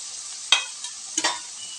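Onions fry in a generous amount of oil for a goat head fry, a steady close sizzle broken by two brief stirring scrapes.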